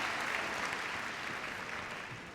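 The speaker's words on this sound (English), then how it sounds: "a nice round of applause for this great crowd here at the NEC" An audience at the Crufts dog agility show at the NEC applauds in a steady, dense wash of clapping that fades slightly toward the end, heard from a distance and without talk.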